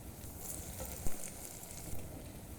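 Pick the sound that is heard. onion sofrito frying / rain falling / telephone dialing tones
onion sofrito frying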